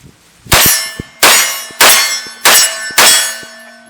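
Five sharp shots from a CMMG MK17 pistol-caliber carbine firing light Norma MHP 9mm rounds, evenly spaced about half a second apart, each loud blast trailing off with ringing metallic echo.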